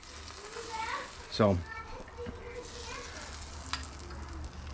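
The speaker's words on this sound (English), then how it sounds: "And while that side's toasting, look at this side, buttery." Lobster roll buns toasting in plenty of butter in a pan, a soft continuous sizzle under a person's talk, with a sharp scrape or clatter partway through.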